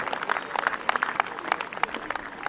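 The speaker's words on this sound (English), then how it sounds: "A big round of applause for those kids who are now playing freshman high school baseball." A crowd at a 2015 Little League baseball and softball opening day gives steady scattered applause, faint and somewhat distant, for kids now playing freshman high school baseball.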